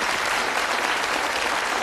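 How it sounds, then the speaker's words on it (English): Studio audience applause at a UK television game show, a dense steady clapping that fills the room at close range and holds evenly loud throughout, with no talking over it. "Give them a nice round of applause"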